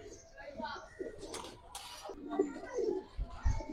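Cobra Silver pigeons held in someone's hands coo softly in low murmurs, mostly beneath someone talking throughout.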